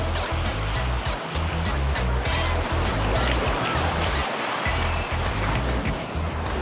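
Ocean surf crashes and washes steadily onto a beach, loud and close, with a continuous roar of breaking waves and no clear voices.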